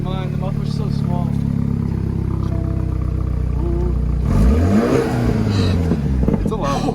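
BMW M4 car engine idling and revving with a loud exhaust, a steady low rumble that swells into a rising rev near the end, with people talking over it.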